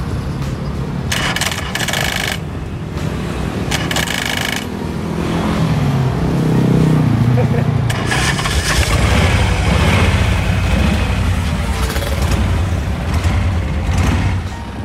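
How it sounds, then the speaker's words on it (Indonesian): A rigid-chassis custom chopper motorcycle with a Harley Shovelhead engine rumbles continuously and loudly, revving up and easing back while riding, with wind noise and mechanical rattles over the deep exhaust. "Ini pertama kalinya gue naik motor chopper rigid chassis."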